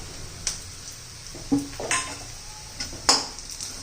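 Chopped curry leaves sautéed and stirred in a hot kadhai with onion, with a spoon scraping and clinking against the metal pan in several distinct knocks over a soft background sizzle.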